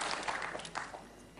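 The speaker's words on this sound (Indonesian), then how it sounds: "Tepuk tangan yang meriah untuk pilihan Anda" Broad, steady clapping from a studio audience at an Indonesian motivational talk show, filling the whole moment as a dense, even wash of many hands without any voices.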